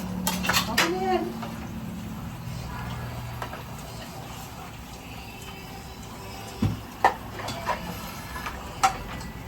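Dishes, plates and cutlery clatter during washing up, with sporadic sharp clinks and knocks that grow more pronounced toward the end, over a quiet room with faint voices.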